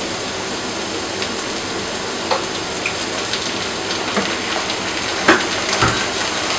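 Tamarind sauce hits a hot pan and sizzles loudly in a steady crackling hiss, with a few sharper pops scattered throughout.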